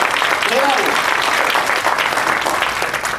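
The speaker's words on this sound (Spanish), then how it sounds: "Denle un aplauso, créalo." A church congregation applauds during a Spanish-language service, giving sustained, dense clapping across the whole stretch, with a brief voice or cheer rising early on.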